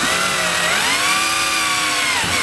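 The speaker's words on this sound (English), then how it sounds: "I'm just going to drill this hole." A power drill bores a hole for a YakAttack LeverLoc anchor trolley on a kayak, a steady whining motor tone that rises and holds for over two seconds before winding down, loud and close with no talk.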